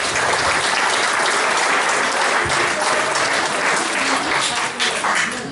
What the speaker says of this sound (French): On peut les applaudir parce qu'ils sont là.